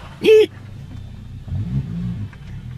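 A crusty old Volvo car engine revs briefly, a low rumble swelling and fading mid-clip after a short, sharp vocal burst, with faint background noise throughout.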